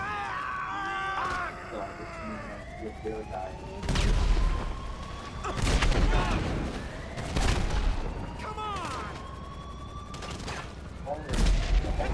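Gunfire in GTA 5 breaks out in bursts of loud, close shots and rapid volleys, with sweeping whistles and tonal effects running between them, and a voice talks over parts of the action.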